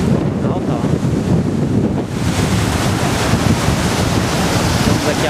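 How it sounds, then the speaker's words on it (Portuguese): Ocean surf breaking on the shore at Pedra Furada in Jericoacoara, a loud continuous wash of waves close by with heavy wind buffeting across the microphone. "Estamos aqui à beira do mar."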